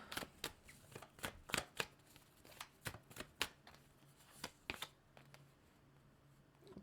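A deck of tarot cards is shuffled and a card drawn, giving a quick flurry of close, papery riffles and slaps followed by a few softer flicks.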